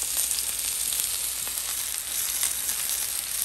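Chicken sizzles steadily in a hot pan while its sides turn white and crust over, a dense, even hiss held at a constant level with small crackling pops scattered through it and no talking.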